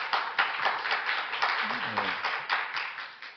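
A panel discussion audience at a Busan MICE festival gives a round of applause, a steady stretch of many hands clapping with slight rhythmic pulses and a brief voice underneath.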